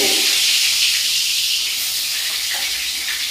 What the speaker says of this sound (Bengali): ছাকা তেলে মচমচে বেগুন